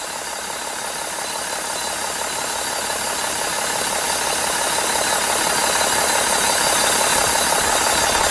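A diesel vehicle engine idles steadily close by during a diesel intake cleaning treatment, a continuous rumbling clatter that holds level throughout with no talking.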